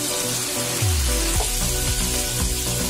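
Cumin seeds dropped into a pan of hot oil and butter sizzle loudly and steadily, with a dense frying hiss and a few clinks near the start, no voices.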